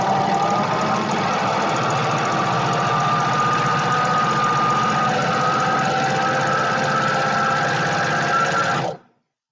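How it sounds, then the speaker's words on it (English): An overlocker serges along the edge of fabric for boxer shorts, giving a loud, steady mechanical whirr that runs unbroken for about nine seconds and then stops abruptly. "line up the edge of your fabric with the edge of the plate on the overlocker"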